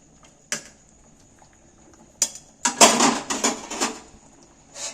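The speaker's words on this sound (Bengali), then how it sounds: "আমি পুরোটা নেড়ে দিচ্ছি" A ladle scraping and clanking against a pot of chicken khichdi on a gas stove, a few sharp knocks and then a cluster of metallic scrapes, close and clear over a faint steady hum.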